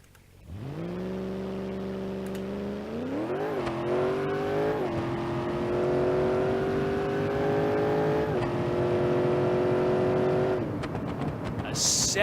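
A junkyard drag car engine in BeamNG.Drive drones loudly and climbs in pitch through gear changes as it accelerates hard on nitrous, holding a sustained, close roar for most of the run.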